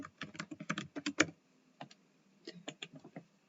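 Quick bursts of keystrokes clatter on a computer keyboard, an irregular run of crisp clicks with a short pause midway before another flurry of taps, close and clear with no talking.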